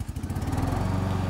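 A John Deere GS walk-behind mower engine runs with blades engaged, a close, steady rhythmic putter with strong low pulsing that holds constant throughout, no talk.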